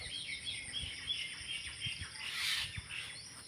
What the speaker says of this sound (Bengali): পাখির কলকাকলি।